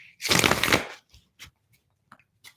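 A deck of reading cards is shuffled in one quick, close riffle burst, followed by a few faint taps and slides as the cards settle.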